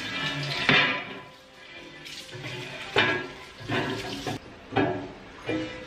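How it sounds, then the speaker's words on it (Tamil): A new cast iron dosa pan being rinsed under tap water, with splashing bursts of running water and occasional scrubbing as the pan is moved under the stream, moderately close and alone. "இப்போ டேப் வாட்டர்லேயே கழுவி எடுத்துக்கலாம்."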